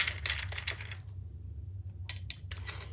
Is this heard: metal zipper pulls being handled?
yes